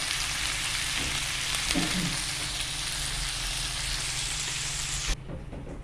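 Catfish frying in hot oil gives a dense, loud, continuous sizzle with faint rain-like crackle, holding steady for about five seconds before dropping suddenly to a quieter background.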